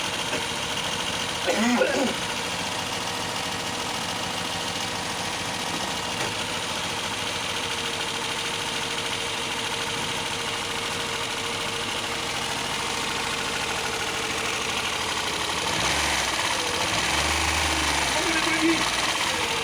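A Tavria fuel-injected car engine idling roughly after a cylinder head repair, misfiring with an uneven, shaking rhythm; a steady close mechanical drone throughout, with brief bumps, other noises and occasional voices nearby.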